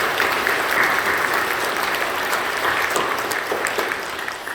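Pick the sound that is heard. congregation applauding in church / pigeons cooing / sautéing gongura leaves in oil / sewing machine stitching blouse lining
congregation applauding in church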